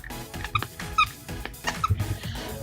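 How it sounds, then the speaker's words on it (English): A small squeezy Mr. Spunky Pup dog toy gives a few short, faint squeaks in a store, spaced irregularly, amid soft handling noise. "It's a little squeezy one."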